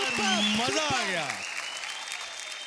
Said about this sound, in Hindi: तालियां हो जाए यार